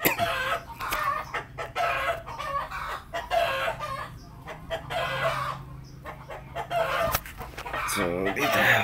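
Chickens cluck busily at a rural province home while roosters crow over them. The birds are close and fairly loud in overlapping bursts, with faint background activity.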